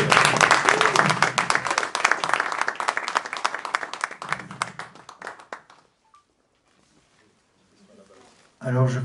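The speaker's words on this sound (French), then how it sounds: "On peut les applaudir, hein." Audience applause after a talk on Lacan, dense clapping for several seconds that thins into scattered claps and fades to near silence, with voices starting at the end.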